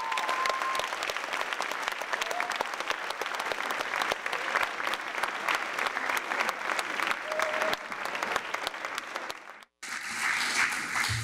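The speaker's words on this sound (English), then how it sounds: "please give a warm Concord High round of applause for Mr." An audience at a Concord High Wall of Fame induction ceremony applauds steadily and warmly for the whole stretch, with a dense wash of clapping that cuts out briefly near the end before resuming.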